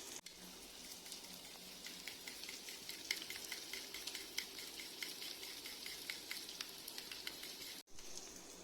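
Beaten egg omelette mixture with mint sizzles steadily in a hot pan, a soft continuous crackle with fine popping, fairly quiet and alone, briefly cut off near the end.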